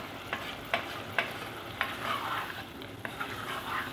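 Mixed vegetable curry with coconut milk bubbles and simmers in a pan, with a few sharp clinks of a spoon against the side, close up and steady.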